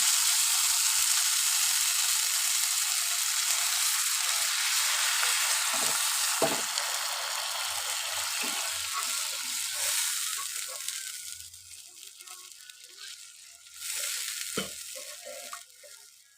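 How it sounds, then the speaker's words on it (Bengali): Spices fry and sizzle loudly in a pan for a Bengali chorchori of eggplant, potato and river fish, with a few scrapes of stirring; after water is added the hiss drops and softens, then briefly flares up again. "মশলা ভালো করে ভাজা হয়ে যাচ্ছে এবারে দিয়ে দেবো জল"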